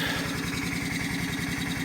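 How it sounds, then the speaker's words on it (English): A small engine driving a water pump beside a creek near rice fields chugs in a rapid, even low pulse, steady and moderately loud throughout. "there's an engine there, is pumping water from the creek"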